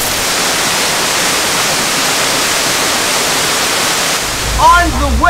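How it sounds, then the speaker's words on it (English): Cascada del Amor waterfall near Jardín, Colombia, roars as a loud, steady broadband rush of falling water throughout, with a brief burst of chirpy bird or voice sounds near the end. "On the way to Cascada del Amor, the love waterfalls."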